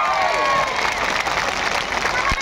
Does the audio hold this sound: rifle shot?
no